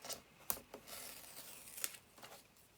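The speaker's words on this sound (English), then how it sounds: "you just sort of cut with the tip of the scissors" Quiet, close snips and rasps of scissors cutting paper, a few sharp clicks among soft rustling, faint overall.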